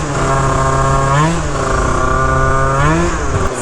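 A Phantom F12 scooter with a 70cc build runs after starting, its small two-stroke engine buzzing loudly and continuously close by, with slight rises and dips in pitch as it idles and warms.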